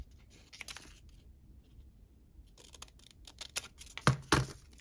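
Scissors snip through a paper junk mail envelope during a craft project, with a few quick cuts early on and then a denser, louder run of snips near the end, close and with no talk.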